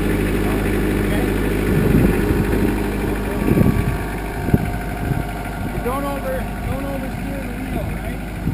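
A tractor engine runs steadily while being driven, a loud continuous low rumble with rattling vibration, and bursts of voices coming in over it.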